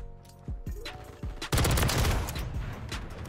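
Gunfire in Call of Duty: Modern Warfare 3, a few sharp single shots followed by a loud, dense burst of rapid automatic fire that stays steady to the end.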